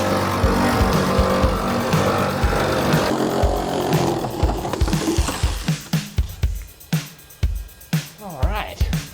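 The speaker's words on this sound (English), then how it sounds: "I'm using the jigsaw" A jigsaw cuts a window opening in a camper wall, first a continuous buzzing cut, then a string of short bursts as the saw stops and restarts, loud and close.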